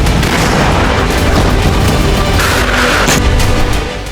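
Wartime explosions in Ukraine: a loud, dense barrage of booming blasts and rumble that fills the whole stretch without a break, with no voices.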